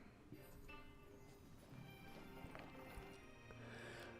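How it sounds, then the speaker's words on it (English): Horses gallop in a medieval-fantasy video game, steady hoofbeats and clip-clop building behind the scene with faint whinnies, a continuous layered rumble at moderate level with no speech. "The sound of galloping horses grow louder and louder behind me."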